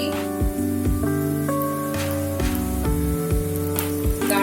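Coriander seeds and green chili sizzle in hot oil in a pan, a steady frying hiss running alongside a louder, rhythmic musical backing.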